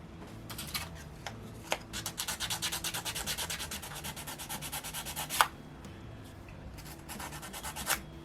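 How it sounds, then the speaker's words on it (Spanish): Close, rhythmic back-and-forth rasping of sandpaper on a small piece of a wooden Tyrannosaurus rex 3D model, in quick repeated strokes with a few sharper scrapes. "vamos a lijar un poco esta pieza"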